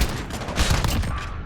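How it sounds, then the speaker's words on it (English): Rapid, continuous bursts of MK2 carbine fire in Modern Warfare, loud and close with dense overlapping shots across the whole moment and no talk over it. "the fire rate on the weapon is actually quite fast, as you guys can see right now"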